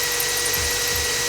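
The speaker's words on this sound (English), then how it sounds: "And I'm going to drill 2 holes" A power drill with a 4mm bit boring through a metal seat bracket in a VW T5/T6 van, a steady loud whirring hum with slight dips in load.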